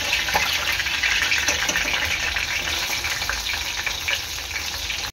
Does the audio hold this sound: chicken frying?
yes